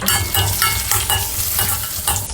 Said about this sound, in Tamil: நல்லா வதக்கியாச்சு